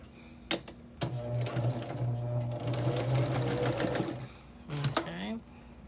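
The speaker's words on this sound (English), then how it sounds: "taking them to the machine to stitch them in that same direction" Sewing machine stitching quilt blocks makes a steady motor whir for about three seconds between short clicks and handling noises, with someone talking briefly over the sound.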